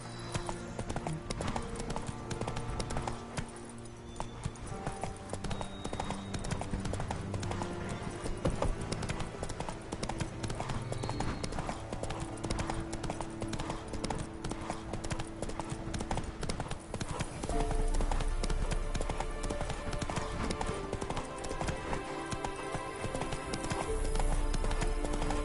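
Galloping hooves of the horse Roach in the video game The Witcher 3, a rapid steady clip-clop rhythm continuing throughout, loud and close over a dense game soundscape.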